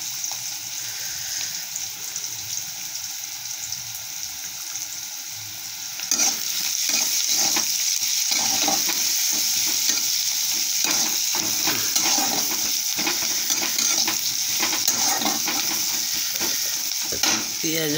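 Onions frying in a pan while cabbage is being cooked, giving a steady close sizzle that swells louder partway through, with stirring scrapes and clatters running throughout.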